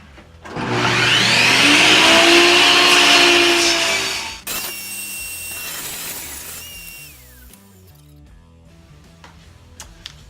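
A power saw ripping down a 1x6 pine board about 5.5 inches wide, a loud whining cut lasting several seconds, then a short burst and a winding-down motor with scattered workshop clunks.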